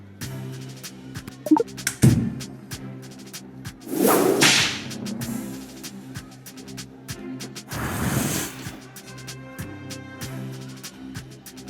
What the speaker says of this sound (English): Peaches really responded well to the crack of the whip.